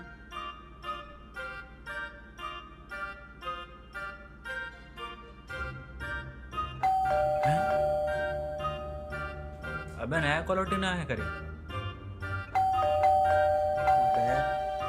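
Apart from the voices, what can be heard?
doorbell ringing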